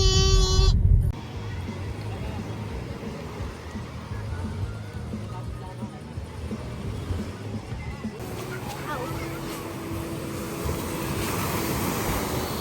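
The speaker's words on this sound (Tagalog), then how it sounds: "Lakas sa alon." Steady roar of strong surf at a Pangasinan beach with waves washing in and breaking, mixed with wind buffeting the microphone; a short loud bump at the start.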